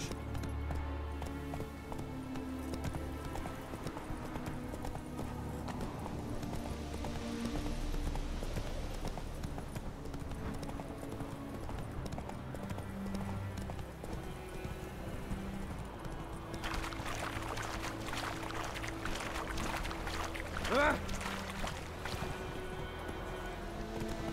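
Roach, Geralt's horse in The Witcher 3, gallops with steady clip-clop hoofbeats over a continuous game soundtrack, the hooves moderately close and running throughout.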